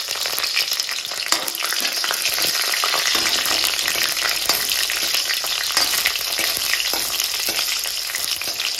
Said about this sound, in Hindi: और ऊपर से 3-4 सूखा मिर्च, और साथ ही में मैं कुछ हरी मिर्च भी डाल दे रहा हूँ।